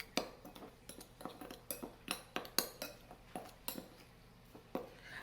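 Spice stuffing for bharwan mirchi, coriander and cumin powder with salt, mixed in a bowl with a spoon: a steady run of soft metallic taps and scrapes, close and quiet, with no talking.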